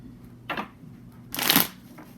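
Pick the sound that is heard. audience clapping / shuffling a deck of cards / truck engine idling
shuffling a deck of cards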